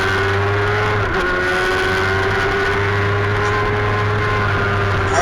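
Formula Femme race cars from the 2016 SOAR Round 6 final lapping the racetrack, a steady sustained engine drone carrying across the circuit with a slight dip midway.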